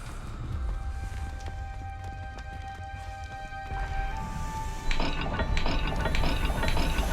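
A puzzle dial mechanism turns in Hogwarts Legacy, a steady run of ratcheting clicks and gear ticks over a low hum, growing busier and louder with brighter metallic clatter in its final seconds.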